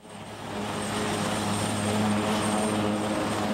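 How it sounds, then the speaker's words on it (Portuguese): A steady, droning rotor-and-engine roar holds at a constant level throughout, a loud aircraft hum with a low pulsing beneath a broad wash of noise from an armored H-34 Super Puma military helicopter of the Brazilian Air Force in flight. "Esse é o modelo do primeiro helicóptero blindado da Força Aérea Brasileira."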